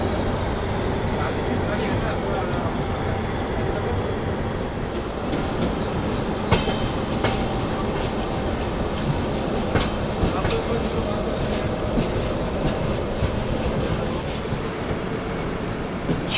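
An Indian passenger train runs on the rails near Mumbai's LTT station heading onto the main line, giving a continuous rolling rumble with scattered wheel clicks and rattles, steady and unbroken throughout.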